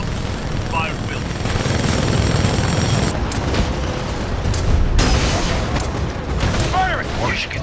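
Heavy Titan weapons fire in the video game Titanfall 2, a loud, dense battle mix of booms and rapid bursts that stays busy throughout, with radio-style voices talking over the combat.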